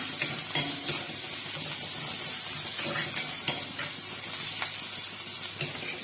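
Steady hissing sizzle of onion, garlic and ginger frying in a pan, with occasional soft clinks and stirring sounds.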